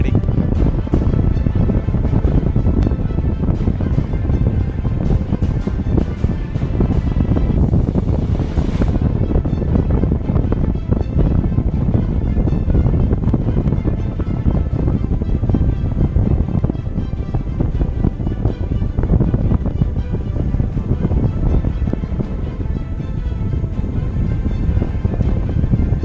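Strong wind roaring over the microphone during a paragliding flight at Vagamon, 4000 ft up, a loud continuous buffeting rumble with gusty crackle that never lets up across the whole stretch.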